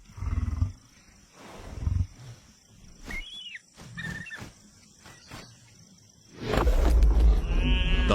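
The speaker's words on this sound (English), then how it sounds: "The lioness guards her fresh kill." A lioness guarding a fresh kill in the desert gives low growls and snarls in short bursts, then a loud, sustained roar close by near the end.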